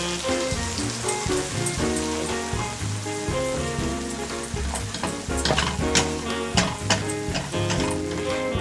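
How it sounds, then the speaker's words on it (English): Tortillas frying in a thin coat of hot oil in a pan make a loud, continuous sizzle that stays dense throughout, with a tonal background running underneath. "The oil is hot and I'm going to fry the tortillas."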